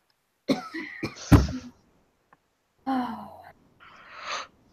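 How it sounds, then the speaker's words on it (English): A person yawns aloud with drawn-out, breathy exhalations, a sharp gasping intake and a throaty stretch, then a long open-mouthed groan, close and intimate in a quiet room with no other sound. "Stop yawning. You're making me yawn."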